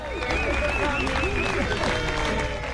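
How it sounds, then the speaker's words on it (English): Crowd cheering and applauding outside a courthouse as a person arrives with family, friends and a law enforcement escort, a dense continuous wash of clapping with whoops and voices calling out throughout. "greeted with a cheering crowd."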